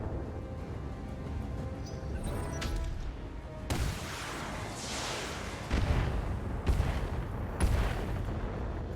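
Missile and cannon fire in the BattleTech mech game, a steady rumbling barrage broken by several loud booming impacts and crashes.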